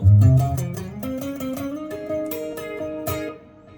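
A clean electric guitar through a Line 6 POD HD500X plays a short solo phrase of plucked notes, the first ones ringing loud and full, then a steady run that fades out at the end.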